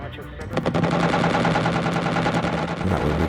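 Rapid automatic cannon fire from an aircraft gun shooting at a UFO in the strategy game Xenonauts, a loud, continuous burst of rattling shots that runs unbroken through the whole stretch.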